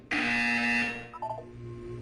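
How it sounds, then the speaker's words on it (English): A loud electronic buzzer from the video game Portal 2 sounds once, a harsh sustained tone lasting nearly a second and then tapering off over a low background hum. "When you hear the buzzer, look up at the ceiling."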